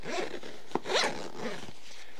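A zipper on a tactical backpack's rear storage compartment is pulled open close by in a few short rasping strokes, with a faint rustle of fabric in between.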